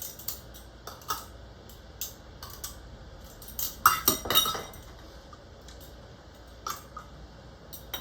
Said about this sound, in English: I just put the rings in here, let them get boiled up a little bit